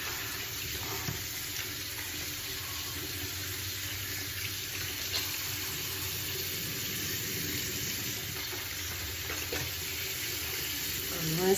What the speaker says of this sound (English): I'm literally just putting water in my hand and rinsing.